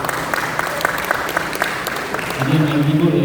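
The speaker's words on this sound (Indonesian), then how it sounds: "Kita beri tepuk tangan." Applause at a graduation ceremony for a music division graduate, a steady crowd clapping under a voice speaking over it, joined near the end by sustained keyboard notes.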